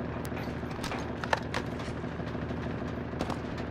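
Rapid gunfire in Call of Duty: Warzone crackling continuously at moderate volume, with a few sharper shots standing out over a dense background.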